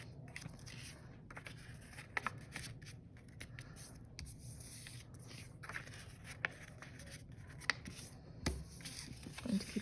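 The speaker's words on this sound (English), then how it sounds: "I am now going to fold my circles in half" Paper circles are folded in half for a Christmas ornament craft, giving soft, close crinkles and light scraping creases in irregular bursts over a quiet background.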